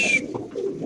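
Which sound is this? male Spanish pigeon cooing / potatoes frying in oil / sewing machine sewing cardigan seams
male Spanish pigeon cooing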